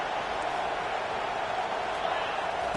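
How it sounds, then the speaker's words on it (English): A football stadium crowd roars continuously, a dense, steady wash of cheering and noise with no breaks across the short stretch. "This crowd bringing the energy and noise early."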